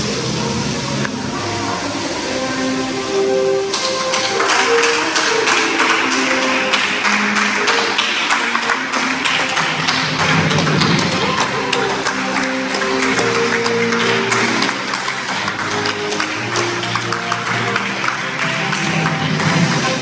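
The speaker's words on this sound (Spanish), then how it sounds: "Tú vas entrando y todo el mundo que está aquí en el lobby te va aplaudiendo" Hotel staff in the lobby of Planet Hollywood Cancún clap for arriving guests. Dense, steady applause swells in after a few seconds and continues over background music.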